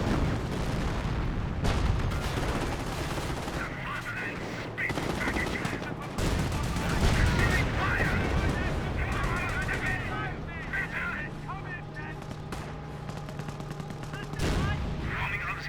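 Company of Heroes 1 battle between Wehrmacht and British forces, with scattered gunfire cracks and heavy tank cannon blasts, loud bursts at irregular intervals over a busy mix of engines and battlefield noise.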